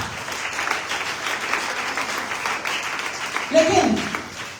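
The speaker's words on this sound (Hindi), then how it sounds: "आइए तालियां बजाएं जिनको पता है।" Audience applause at a church worship gathering, steady clapping spread across the room under ongoing preaching voice, with a louder burst near the end.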